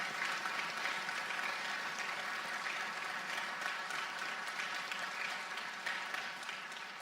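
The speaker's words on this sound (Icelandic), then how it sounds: "mér langar til að biðja ykkur aftur að klappa fyrir okkur öllum" An audience at a school graduation ceremony applauds steadily, a dense sustained wash of clapping that holds for several seconds and fades slightly at the end.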